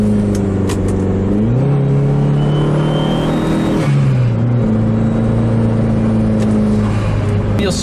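A Chrysler PT Cruiser GT with solid race motor mounts revs hard through gear shifts while driving, loud boosted engine drone climbing in pitch, dropping at each shift, then pulling again, heard from inside the car.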